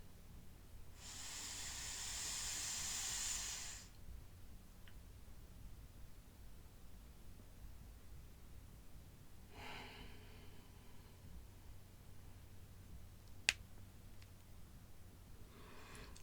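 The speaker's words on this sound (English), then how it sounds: "Now we're going to breathe in like that through the nose and breathe out through the nose" Two slow nasal breaths during a morning stretch, each a soft airy rush and hiss, the first long and steady, the second shorter and fainter, over quiet room hum with a brief click near the end.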